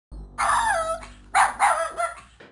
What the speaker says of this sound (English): If you try to go into Malicia's house with the dogs yapping.